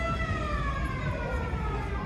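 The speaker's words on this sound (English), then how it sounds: "You hear the air raid siren, that is a Washington thing" An air raid siren at a Washington Huskies football game at Husky Stadium wails continuously in the distance, its long tones sliding slowly downward over a low background rumble.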